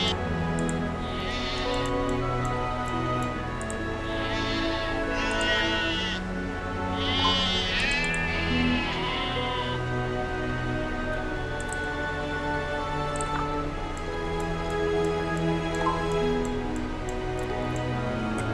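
Sheep in the video game Settlement Survivor bleat repeatedly over a busy game soundscape with steady ticking and ambient tones, several bleats clustered early and then fading into the background mix.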